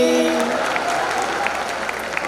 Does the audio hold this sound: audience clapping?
yes